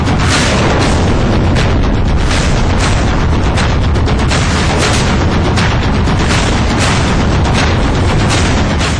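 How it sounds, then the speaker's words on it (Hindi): Indian Army shelling strikes Pakistani army posts near Nowshera, Jammu and Kashmir: loud, dense, continuous rumbling blasts with repeated sharp bursts, heavy and distorted from start to finish. "दूसरी तस्वीर भारत के बारूदी हमले की, जिसमें सिर्फ और सिर्फ पाकिस्तान की उन्हीं सैनिक चौकियों को निशाना बनाया गया"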